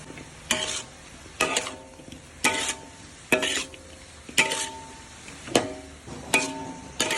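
Broccoli and minced pork stir-fried in a pan, with steady sizzling broken by seven or eight rhythmic bursts of a spatula scraping and tossing against the metal, close and clear, with no talking.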